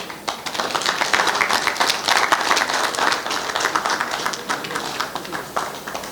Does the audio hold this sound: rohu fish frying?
no